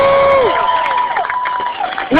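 At a rally, a crowd cheers loudly with shouts and whoops for two supporters who drove to a national march in D.C. The burst is short and close, with voices rising and falling over about two seconds.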